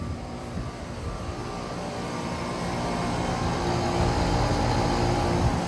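An Amana air conditioner unit runs outside a house, giving off a steady, loud, broadband whirring hum that builds gradually and stays constant throughout.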